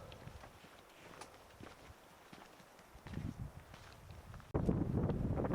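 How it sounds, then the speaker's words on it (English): Wind gusting across an open high mountain trail at about 11,000 feet, a steady rushing roar with footsteps crunching along; the gusts grow noticeably louder and closer toward the end. "There's quite a wind blowing"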